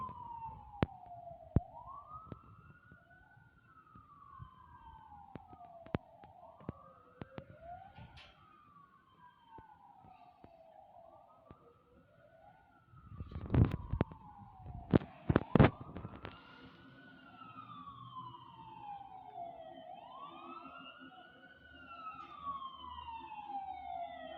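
Fire engine sirens wail with a rising and falling sweep, fairly distant and slowly approaching a house fire, joined by a few sharp bangs and thumps midway, with no talk over them.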